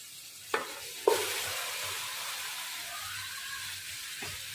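Marinated chicken lands in a pan of browned fried onions, tomato and green chillies, two sharp clattering hits followed by a steady close sizzle and scraping stirs over low flame.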